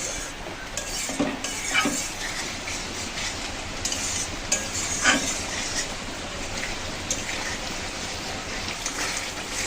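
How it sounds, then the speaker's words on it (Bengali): Spice paste cooks with yogurt in a pan for a jackfruit and prawn curry, making a continuous moderate sizzle broken by spoon scrapes and occasional clinks against the pan, close by and without voices. "মশলাগুলো সুন্দর করে আমি কষিয়ে নেব যতক্ষণ না উপরে তেল উঠে আসে মশলা থেকে।"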